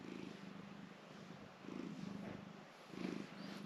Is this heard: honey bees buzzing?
no